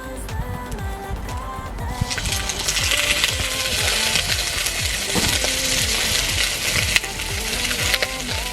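Food sizzles on a grill at a campsite, a steady broadband frying hiss that rises after the first couple of seconds and continues evenly, with small clinks and scrapes of utensils over it.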